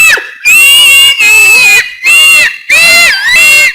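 A woman screams after pepper water is poured on her, giving four loud, shrill, drawn-out cries in quick succession, separated by brief gaps, close and piercing, with no other sound beneath.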